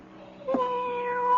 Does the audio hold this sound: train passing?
no